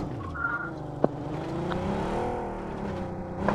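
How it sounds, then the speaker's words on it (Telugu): A car in a video game drives and revs, its engine tone rising and sweeping steadily with a short sharp click partway through, moderately loud with no talk over it. "వచ్చింది కారు."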